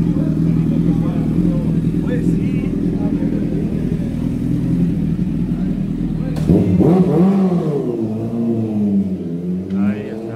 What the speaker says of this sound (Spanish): De sus motos, de sus tubos de escape.